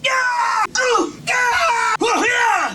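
Strained, high-pitched character screams from the fighting game Dragon Ball Z: Budokai 3, four loud bursts separated by brief gaps, each rising and wavering with heavy harmonic strain.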